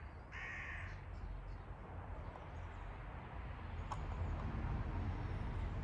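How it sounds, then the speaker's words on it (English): A crow caws from trees outdoors, a few calls standing out over a steady, broad background rumble of open-air noise. "Saying hi, Willow, to the birds in the trees"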